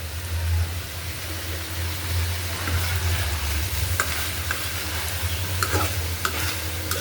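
Onions and tomatoes sautéing in a pan, a constant loud sizzle with scattered clicks and scrapes of a spatula stirring, over a low steady hum.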